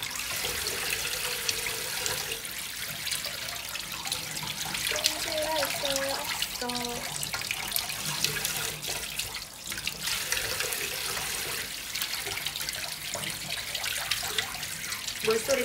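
Water runs steadily from a kitchen tap, splashing into a sink for the whole stretch while chicken is cleaned, with brief voices murmuring partway through.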